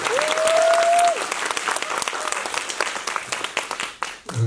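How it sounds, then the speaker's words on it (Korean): Big audience applause at a Busan International Film Festival anniversary screening talk, a held tone at first, then dense clapping from a large crowd that thins and dips near the end. "큰 박수 부탁드리겠습니다"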